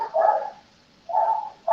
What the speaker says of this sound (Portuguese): Deixa eu desligar aqui por causa do cachorro tá latindo.